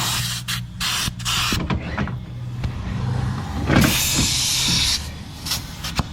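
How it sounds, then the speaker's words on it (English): Loud rushing hiss of compressed air filling a broken-down bus's air tank during a heavy recovery tow, with the bus engine idling underneath and some intermittent bursts, close by, no talking. "We can hear the air going to the tank now."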